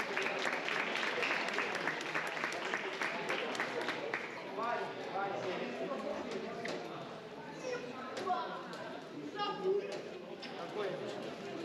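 A crowd claps for the winners at a fin-swimming sprint competition, loud and continuous at first and then thinning into scattered claps, with people talking over it.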